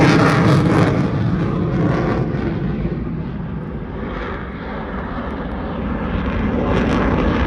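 Loud, steady roar of a jet aircraft flying past at the 2024 Abbotsford air show in Canada, a broad rumble with a slight rise and fall in intensity and no voices.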